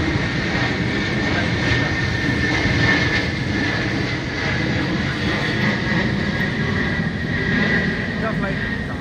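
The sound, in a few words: large airplane flying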